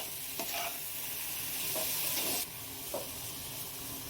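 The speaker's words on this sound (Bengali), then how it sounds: "আদাটা খুব ভালোভাবে নারকেল এবং চিনির সঙ্গে মিশিয়ে নেব।" Coconut, sugar and grated ginger being stirred in a pan, a quiet sizzle with several soft scraping strokes at intervals; the hiss drops slightly halfway through, and no one speaks.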